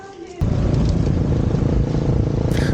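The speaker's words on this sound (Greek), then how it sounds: "Τα μηχανάκια που είναι." Motorbikes pass on a road in Crete, a loud, close engine rumble that starts abruptly and holds steady for a couple of seconds with a faint rising whine toward the end.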